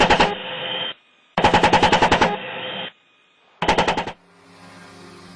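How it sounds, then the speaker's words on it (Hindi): A multi-rotor drone fires a semi-automatic handgun in three rapid bursts of sharp, closely spaced shots, each separated by short quiet gaps, loud and distinct with no talking. "फिर वो सेमी ऑटोमेटिक हैंडगन से तेजी से फायर करने लगता है"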